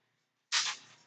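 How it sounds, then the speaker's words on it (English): A spray bottle mists water across a sheet of watercolour paper, one sudden close hiss that starts sharply and trails off over about half a second. "Spray the whole piece of paper with water."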